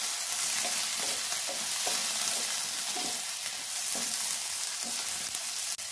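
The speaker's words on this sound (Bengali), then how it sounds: "টমেটোগুলো দেওয়ার পরেও একইভাবে হালকা করে ভেজে নেব।" Chopped tomatoes frying with capsicum and onion in a pan for a cauliflower dish sizzle steadily, with regular scraping stir strokes about every half second and no talking.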